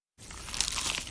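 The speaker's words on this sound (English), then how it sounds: "Is that the sound of an ooey gooey cheesy crunchy slice of P-I-Z-Z-A?" A crunchy bite into a cheesy pizza slice, one crisp crackling crunch with a brief tearing texture, close and moderately loud, with no talking.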